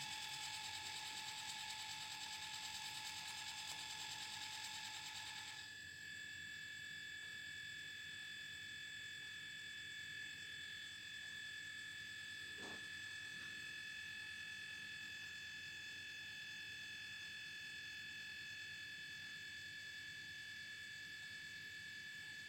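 HPRT MT53 mini thermal colour photo printer at work: a steady mechanical whir with high-pitched tonal whine that shifts partway through, continuing as a constant drone with a brief click midway, no talking.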